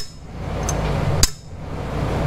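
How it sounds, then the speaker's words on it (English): One sharp metallic tap of a small hammer on top of a valve spring in a 2000 Honda CR-V engine, with a lighter tick just before it, over a low steady background hum. "we'll just use a little hammer, okay, and just put it over the top of the valve here"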